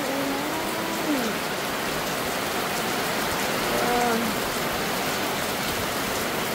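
Heavy typhoon rain pours steadily and loudly on surfaces, a dense continuous hiss filling the whole scene, with faint voices briefly heard beneath it.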